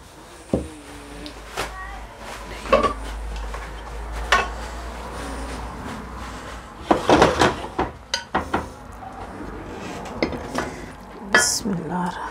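A spoon scrapes and clinks against a pot and dish as cooked chana daal and keema are served out, with irregular metallic knocks and taps at close range, and a voice talks softly in between.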